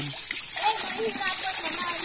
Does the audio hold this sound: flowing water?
yes